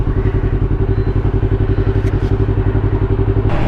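A 2020 Yamaha R3 motorcycle engine idles close by with a steady, rapid, loud, even throb throughout.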